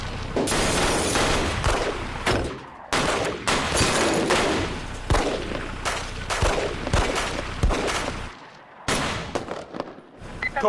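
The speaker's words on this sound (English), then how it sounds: "Shots fired. Shots in the building." Rapid bursts of gunfire ring out inside a high school building during a massacre, sharp cracks and volleys coming in clustered rapid-fire bursts with brief gaps, loud and close, echoing through the halls.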